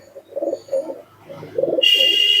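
Giribaz pigeons coo in soft throaty bursts, several overlapping calls close by, followed by a brighter high hiss of background noise at the end.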